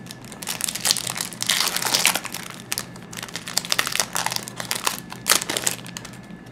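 Foil wrapper of a Marvel Upper Deck Annual 2017 trading card booster pack crinkles and crackles up close in irregular bursts of rustling, with no talking.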